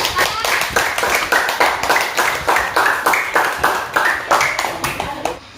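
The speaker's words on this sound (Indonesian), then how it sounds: "Tepuk tangan." A classroom group claps together after a student group's presentation, a fairly loud run of even, rhythmic hand claps lasting several seconds with no talk over it.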